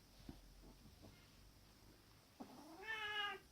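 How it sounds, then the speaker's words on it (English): A house cat meows near the end, a single drawn-out rising call after a brief quieter chirp, fairly close in an otherwise quiet workshop where soldering is under way. "We have a cat."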